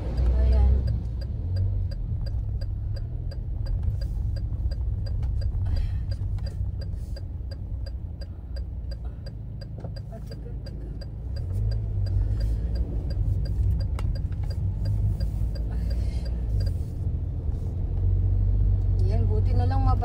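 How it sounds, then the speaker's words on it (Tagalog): Busy road traffic with many vehicles and a truck rumbles steadily and close by, with engine drone and passing cars under occasional speech. "Ang daming sasakyan."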